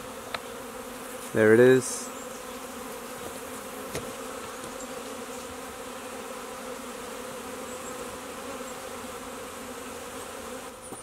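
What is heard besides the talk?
swarm of bees buzzing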